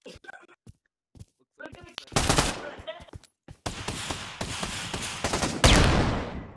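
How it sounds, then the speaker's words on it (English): Flashbang grenades in the video game Pavlov burst in a loud, sharp series, crackling blasts crowding together after quieter moments, with faint whispered voices in between. "Oh my god, enough of the flashbangs."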